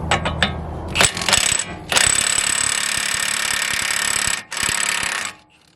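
Milwaukee impact wrench working a 1997 Honda Prelude suspension bolt: a few short rattling bursts, then a long loud continuous hammering buzz, a brief gap, another burst and a stop, close up with no talk.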